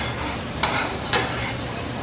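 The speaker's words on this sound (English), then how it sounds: "then we're gonna just stir it up" Chicken breast sautéed with peppers is stirred in a hot pan, giving two short scraping strokes against a steady background sizzle, close and moderately loud with no talking.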